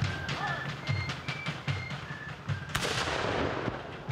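Cannon and musket fire at a War of 1812 battle re-enactment at Stoney Creek, with a series of dull thumps from distant shots and then one sharp, loud blast that rolls away.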